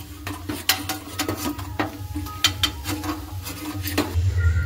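Light clinks and scrapes of a utensil against a pan as fried jackfruit-leaf papad is lifted out, several sharp taps spaced irregularly over a faint low background hum.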